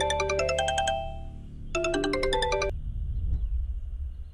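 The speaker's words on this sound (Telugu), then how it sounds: "ఆ ఫోన్ అటెండ్ చేయరా" A phone ringtone plays two bursts of bright, melodic tones separated by a short pause, then cuts off, leaving a low background rumble.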